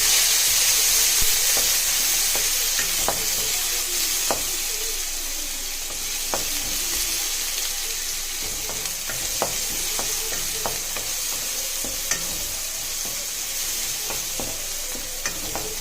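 Onions hit hot oil in a pan with urad dal and asafoetida for cabbage rice, giving a steady close sizzle broken by regular scraping stirs, with faint bird calls in the background.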